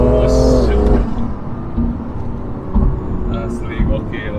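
A BMW M2 Competition, tuned to 636 hp, revs up loudly after a downshift on a toll road, its engine note climbing in a brief strong surge before settling into a steadier drone with road noise.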